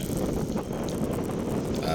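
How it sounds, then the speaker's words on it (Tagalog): Steady, loud wind buffeting the microphone on a road trip to Badian, Cebu, a continuous low rumble and roar with no pauses and no voices. "medyo kusog ang hangin, so medyo saba"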